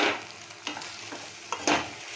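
Cornflour slurry with vinegar cooks in a pan for chili potato, giving a soft steady sizzle with a few louder stirring scrapes, close by and with no talking.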